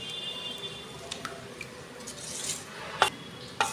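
Rice flour batter with vinegar and baking soda being mixed for pitha, soft wet stirring with a few light clinks of a spoon against the bowl and brief bubbling squishes.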